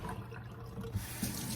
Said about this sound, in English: I'm going to dump the water now.